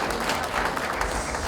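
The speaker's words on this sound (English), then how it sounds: "Can we give a resounding round of applause to Kabiyesi?" Applause from the audience at a coronation-week gathering honouring a traditional ruler, Kabiyesi, a dense steady wash of many hands clapping at moderate level, with faint voices mixed in.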